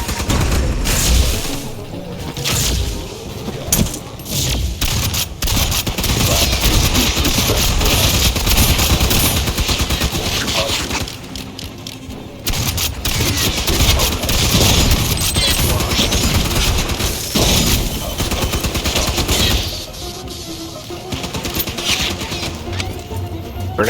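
Grenade blasts and sustained automatic gunfire from Aliens: Fireteam Elite, loud and dense, with rapid bursts and booms nearly continuous across the stretch and two brief lulls.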